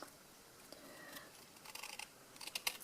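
Scissors cut around an image on a piece of card, a faint, close series of small snipping clicks that grows busier and crisper toward the end.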